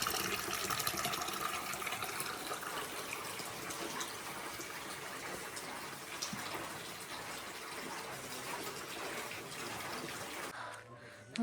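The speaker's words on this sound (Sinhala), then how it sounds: "ඔව් එක දිගටම ටැප් එකේ වතුර එනවා." A tap runs continuously on a cold December climb to Sri Pada, a faint, steady gush of water that cuts off abruptly just before the end.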